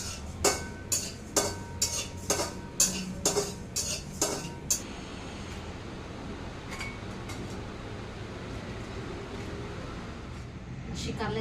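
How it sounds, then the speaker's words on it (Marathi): Cumin seeds being dry-roasted in a hot kadhai, a quick series of sharp metallic scrapes and clinks from stirring, followed by a low steady background hiss. "म्हटले आता जाता भाजून घेते जिरं."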